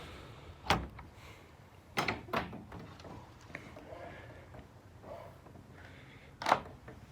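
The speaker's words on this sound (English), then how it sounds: "Let's open up this other door." A storage building door is opened, giving several separate loud clunks and scrapes spread across a few seconds, each standing alone against a quiet background.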